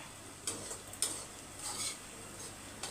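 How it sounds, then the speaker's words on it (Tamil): Cooked rice is stirred in a pan with a spoon, giving soft scraping, a few light metallic clinks and a low background sizzle, close and fairly quiet. "சாதத்தை சேர்த்து நல்லா மிக்ஸ் பண்ணிக்கோங்க"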